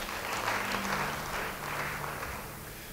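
A church congregation applauds during a sermon, a soft, even spread of clapping heard from some distance for a few seconds without talk.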